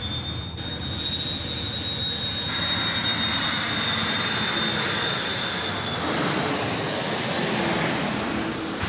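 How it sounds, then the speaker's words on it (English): Qantas Airbus A330-300 jet coming in to land at night on runway 16 right at Sydney Airport, a steady broadband engine roar with a thin high whine, growing fuller and louder toward the end, no voices. "Qantas 462, it's an A330-300 coming in from Melbourne on the milk run, now next to land here at runway 16 right"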